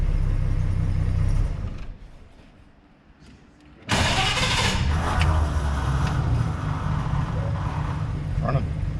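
An engine on a 1933 Hudson Terraplane rumbles, drops nearly silent, then catches abruptly and settles into a loud, steady idle. Voices talk over it.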